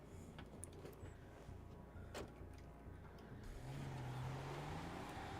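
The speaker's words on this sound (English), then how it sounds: "Good, you hear cars." Cars drive past in a roleplay video game, heard as a faint steady engine rumble with a light knock, then one vehicle's engine note rising and building louder near the end.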